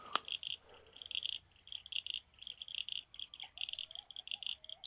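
Frogs croak in a lotus paddy on a permaculture farm, giving a rapid, rhythmic chorus of fairly faint trilling calls in repeated bursts, with a brief knock at the start and soft murmurs underneath.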